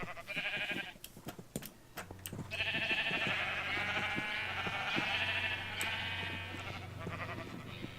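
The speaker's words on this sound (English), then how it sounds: "A sheep actually got out." Sheep bleating in Minecraft with the Cubic Chunks modpack, several long wavering bleats close together and overlapping, fairly quiet, with small clicks of game sounds between them and no talk.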